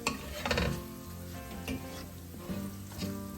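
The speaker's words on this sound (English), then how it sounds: "I'm going to saute this." Kashmiri red chili powder sautés in a pot over a very low flame, a soft sizzle with scraping stirs and occasional clinks of a utensil against the pot, close and fairly quiet.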